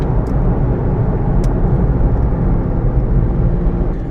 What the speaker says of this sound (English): Why is it so chill driving through a tunnel?